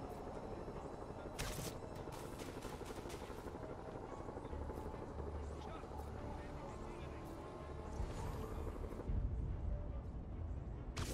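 Drones buzz and whir steadily in Marvel's Spider-Man video game, a continuous mechanical hum with sharp bursts of combat effects layered over it.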